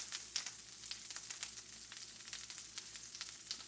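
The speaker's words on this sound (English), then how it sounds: "I'm going to add the green onion to the mixturation" Green onion sizzles with beef chorizo in a hot pan, a soft, steady frying hiss with small crackles, faint and close, with no talking.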